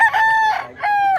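A game rooster crows twice in quick succession, close and loud, each call a drawn-out ringing note separated by a short gap.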